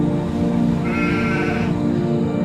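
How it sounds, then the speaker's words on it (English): A goat named Mr. Rocky on a farm gives one drawn-out, wavering bleat midway, clear over a steady soft musical background with no talk. "Mr. Rocky, the goat."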